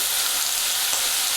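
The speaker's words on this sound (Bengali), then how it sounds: "এটা একটু পেঁয়াজটা আমি লাল করে ভাজবো।" Onions frying in a moderate amount of oil until reddish for a Bengali mutton curry, an even, dense sizzling hiss throughout, close and steady with no voices.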